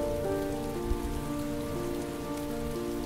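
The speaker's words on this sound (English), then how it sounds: "It's raining." Heavy rain falls steadily outdoors, a dense, even hiss of drops on surfaces that is loud and unbroken throughout, with a low musical hum faintly underneath and no talking.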